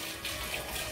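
Tap water runs in a steady gushing stream while chicken is washed, close and fairly loud, with slight splashing changes and no talk.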